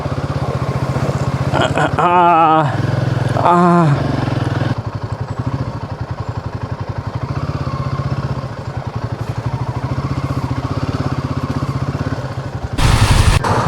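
A motorcycle rides along a muddy, waterlogged road near Anini in Arunachal Pradesh, its engine chugging steadily and revving in surges, with a rider's voice heard over it.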